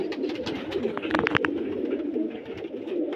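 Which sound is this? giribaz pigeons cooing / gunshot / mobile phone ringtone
giribaz pigeons cooing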